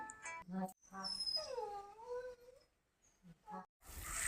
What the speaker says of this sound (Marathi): इथे बघा बाहेर आमचा कुत्रा बसलेला आहे